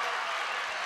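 A packed high school basketball crowd at a 3A semistate game between CMA and New Castle roars in a steady, dense wash of cheering and clapping from across the gym.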